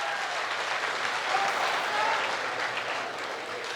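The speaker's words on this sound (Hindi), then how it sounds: "एक बार और तालियां बजाइए ताकि जादूगर के कानों तक पहुंचे" Audience at a Rajasthani kavi sammelan poetry gathering in Kotadi Charbhuja applauding: dense, steady clapping from a large crowd, sustained and even throughout with no break.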